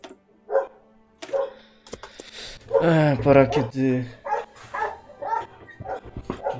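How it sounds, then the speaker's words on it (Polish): A dog barking in short yipping bursts, close and loud, with someone talking over and between the barks. "O, i co by było, gdyby nie pies, który zaczął szczekać"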